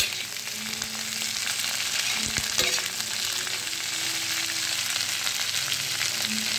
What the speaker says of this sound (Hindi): और मैं इसको अच्छे से भून लेती हूँ।